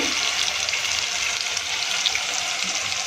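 Water poured into a pan of cooking masala for begun bharta, a steady close hissing sizzle with a rushing watery wash throughout.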